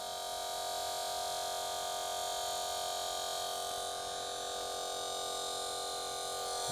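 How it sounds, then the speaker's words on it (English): Electric motor in an energy generator circuit fed from an AC adapter, with two light bulbs on the output, giving a steady, even hum and electrical buzz that holds unchanged throughout with no voices. "the motor is running very strong"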